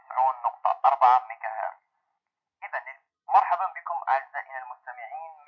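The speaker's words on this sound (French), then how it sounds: "Donc voilà l'effet du filtre en téléphone." Speech on a soundtrack passed through a telephone-style filter, thin and band-limited with the lows and highs cut, heard in two bursts of talking separated by a short silence.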